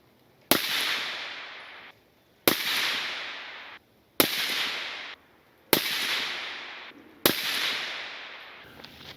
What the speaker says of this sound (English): threw the suppressor right back on the gun immediately and fired another 5-round group, same distance